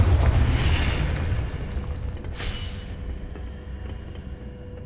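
A Confringo blasting spell goes off in Hogwarts Legacy as a deep booming explosion that opens loud and decays into a rumbling tail, with a brief sharp crackle partway through.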